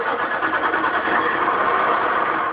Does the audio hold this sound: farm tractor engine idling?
yes